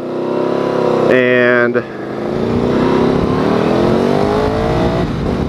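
Can-Am Spyder RS three-wheeled motorcycle engine revving close by, one sharp rev followed by rising acceleration, with a person talking over it.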